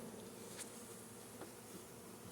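Bees hum steadily around the bottom and outside of a hive, a faint, continuous buzzing with a couple of brief louder passes as individual bees fly close.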